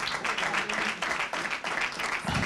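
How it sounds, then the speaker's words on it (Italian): Applause from a tournament audience at a FullGame Point gaming venue, a steady dense patter of many hands clapping in waves, close and moderately loud, with no talk over it. "Niente, un applauso a tutti."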